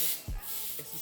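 A short hissing burst from an aerosol spray can onto roses for glittering, brief and close, followed by a faint second puff.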